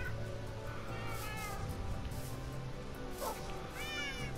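Indoor cat meowing in a home with several cats, a few drawn-out meows rising and falling over a steady background hum, fairly close.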